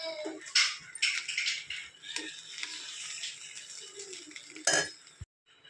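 Fried rice with chicken pieces being stirred in a pan, with close, irregular scrapes and clinks of a utensil against metal, a few sharper knocks, and no talking.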